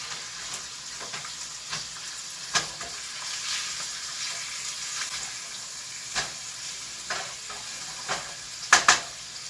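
Chicken pieces sizzling and browning in a frying pan for a tropical chicken dish, a steady soft hiss of frying punctuated by occasional stirring clicks and brief scrapes near the end.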